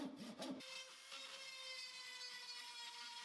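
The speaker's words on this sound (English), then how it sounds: "I do this by using a handsaw and then sometimes a Dremel" Steady scraping strokes of a handsaw cutting through an antler skull plate, close and fairly quiet, with a brief rougher rasp at the start.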